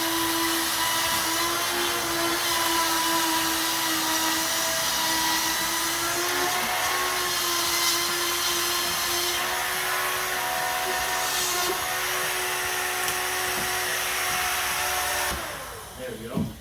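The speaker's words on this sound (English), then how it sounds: "we're just going to router out this edge" A router cuts out the edge of a drywall ceiling during a repair after a roof leak, its steady high motor whine running continuously, close and loud, then winding down at the end.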